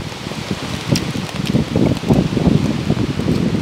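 Rain falls steadily during a mountain hike, a dense, close patter on leaves and surfaces mixed with soft wind, with no one speaking.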